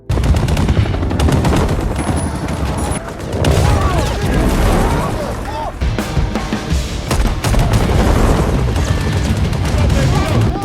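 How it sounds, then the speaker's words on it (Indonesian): Heavy gunfire erupts during a helicopter attack in an action film: dense machine-gun bursts and booming shots rattle almost continuously. Loud crashes and voices break through the chaos. "tiba-tiba mereka diserang oleh helikopter dan terjadilah aksi tembak-tembakan"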